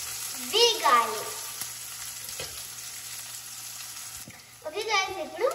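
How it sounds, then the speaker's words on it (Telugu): Taro leaves and tomato curry frying in a pan, a soft continuous sizzle under a woman's speech at the start and end. "ఇప్పుడు ఇది కొంచెం వేగాలి"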